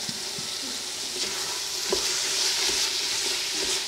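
Tomatoes and vinegar sizzle in a pan for a Sri Lankan chicken curry, a close, steady hiss with faint stirring clicks and small spits, continuous and unbroken by speech.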